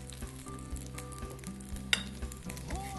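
Butternut squash slivers sizzle steadily in a hot pan, a continuous close frying hiss broken by a few light clinks and one sharp metallic tap.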